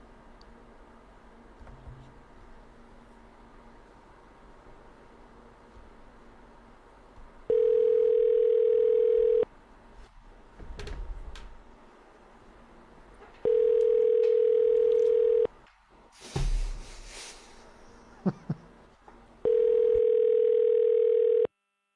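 A phone call ringing through before voicemail picks up, with three long steady ring tones spaced a few seconds apart over a quiet line and faint background noise between them.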